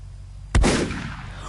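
A single sharp gunshot from the Deadbolt video game cracks once, loud and close, followed by a short decaying tail over a faint background.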